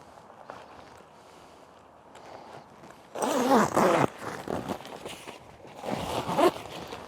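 The heavy-duty zip on the front panel of a Wychwood HD MHR Brolly System MK2 fishing shelter is pulled in two close, loud rasping bursts, with quieter fabric rustling before and between.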